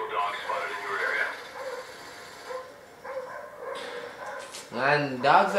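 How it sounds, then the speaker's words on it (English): Hostile attack dogs in Call of Duty: Black Ops multiplayer bark and yip at mid distance, with a short burst of sharp barks near the end over game noise and talk. "Hostile dog spotted in your area."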